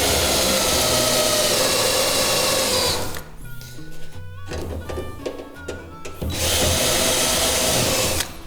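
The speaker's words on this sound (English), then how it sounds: "you take your cutter, put on top, and it's just as easy as drilling it out." A loud, high-pitched whine of a spot weld cutter drilling into car body metal, dropping off for a few seconds of lower grinding before the drilling surges back.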